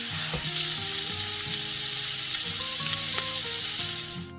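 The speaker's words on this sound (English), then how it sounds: "So I'm going to fry the garlic." Garlic fries in a pan with a steady, close sizzle that holds throughout, while low sustained tones run underneath and the sound fades slightly at the end.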